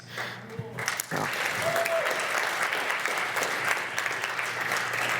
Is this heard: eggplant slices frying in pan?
no